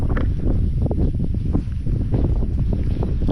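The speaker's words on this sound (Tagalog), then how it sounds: "sobrang lakas ng hangin" Strong wind roars and buffets the microphone in continuous loud gusts on Mt. Naupa Peak, Naga City, Cebu, with no voices heard.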